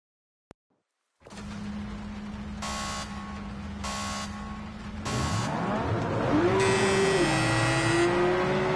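Race cars on the grid at the start of a race in Project Cars 2, with several loud buzzer-like countdown tones over idling engines, then engines rising and revving as the pack pulls away.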